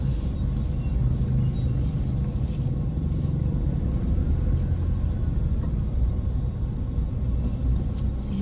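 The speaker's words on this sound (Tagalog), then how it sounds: "Grabe ka traffic." Heavy road traffic drones steadily as a dense, continuous low rumble of engines and tires, moderately loud throughout with no distinct passing vehicles standing out.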